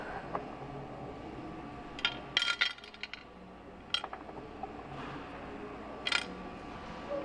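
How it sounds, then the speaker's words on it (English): Metal engine bolts from a 2.0L turbo engine teardown are dropped into a cover, giving several small sharp clinks and rattles at scattered moments over a low background hum. "put all the bolts in the cover here"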